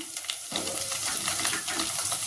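Drumstick pieces and onions fry in a hot pan with a steady, close crackling sizzle, getting a little busier after the first half second, with no voices.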